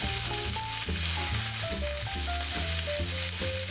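Oxtail browns on its sides and bottom in hot oil in a pot, a continuous close frying sizzle that stays loud and even, with background music playing along.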